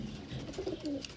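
A Sialkoti pigeon coos softly, a few low throaty murmurs in a short burst heard up close against faint background noise.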